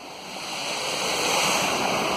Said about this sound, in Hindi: ये स्टॉप डैम पे आपको पानी बहता दिखाई दे रहा है, जिसकी आवाज़ सुनाई दे रही है।